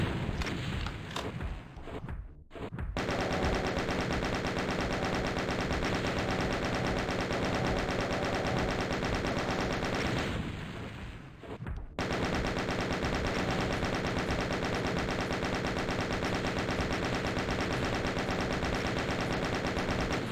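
Rapid automatic gunfire from the shooter game Doom II pours out in long, dense, loud bursts, broken by two short pauses, with no talk over it.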